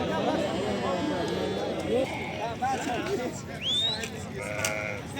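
Sheep and lambs at an open livestock market bleat repeatedly, several animals calling at once near and far amid crowd chatter and people talking.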